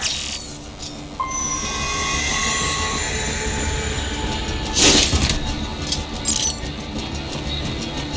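A freight train rumbles through an underground railroad in a game level, steady rolling wheel noise with metallic squeals and ringing tones rising and fading, plus a sharp clank near the middle, loud and close with no talking.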